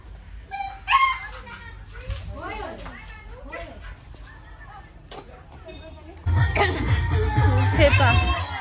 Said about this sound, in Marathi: ही शिकारीची कुत्री आहेत बघा,